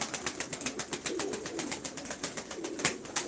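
Low coos from pigeons at a bird auction sit under a rapid, even train of crisp pulses, with a brief flutter of wings and one louder burst near the end, and no talking.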